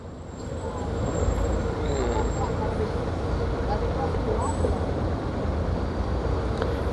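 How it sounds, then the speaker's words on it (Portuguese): Heavy city street traffic on Avenida Nevaldo Rocha in the South Zone of Natal, Rio Grande do Norte, a steady loud roar of many cars, buses and trucks passing close by, with faint brake hiss and no pauses. "É muito carro, galera"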